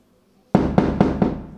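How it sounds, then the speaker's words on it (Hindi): Firecrackers set off in celebration burst loudly and close by, four sharp bangs in quick succession, each followed by a crackling ring-out that runs into the next. "और पटाखे उठाके सब वो तो मना रहे हैं खुशी"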